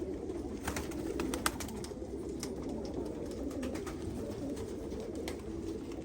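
Polish breed pigeons coo softly and steadily in a loft, their low murmuring calls overlapping at close range, with scattered light taps and wing flutters but no talk.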